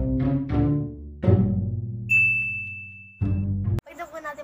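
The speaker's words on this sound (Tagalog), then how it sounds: "Pindutin nyo na rin po notification bell para lagi kayo updated" A notification bell rings with a bright, clean ding that holds its tone for about a second, set among louder music and clanging sounds.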